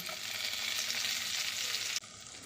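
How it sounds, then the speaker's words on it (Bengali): Chopped ginger and garlic fry in a hot pan for a corn and mushroom soup, giving a loud, steady close-up sizzle that cuts off abruptly near the end, leaving a quieter hiss. "এই আদাটাকেও হালকা করে ভেজে নেব।"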